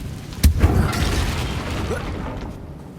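A Confringo fire spell blast in Hogwarts Legacy lands as a sharp, loud boom early on, followed by a rumbling burst and crackling debris that gradually fades away.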